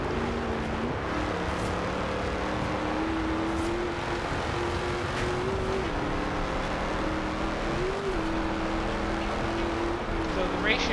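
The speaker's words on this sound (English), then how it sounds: "It is just switching gears, like just thinking about it, and I'm switched into the next gear." Car engine in the racing game Forza Horizon 2, droning steadily with pitch rising and dropping at repeated gear shifts, under continuous talk.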